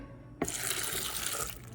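Water pours steadily into a Vitamix blender jar holding dates and black beans, a broadband rushing stream that starts abruptly after a short silence and runs on without talk.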